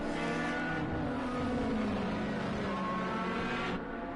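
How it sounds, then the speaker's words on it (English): Race cars in a racing video game roar steadily through the enclosed Monaco tunnel, a loud continuous engine drone with a rising pitch sweep midway, sustained throughout before dipping slightly at the end. "The noise of those cars going through the tunnel"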